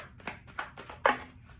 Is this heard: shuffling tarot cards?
yes